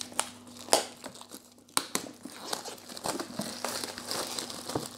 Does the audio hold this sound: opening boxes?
yes